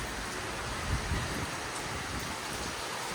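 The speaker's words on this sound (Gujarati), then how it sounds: "વરસાદ આવી ગયો છે" Steady, soft rain falls continuously, a dense even hiss with no other sounds standing out.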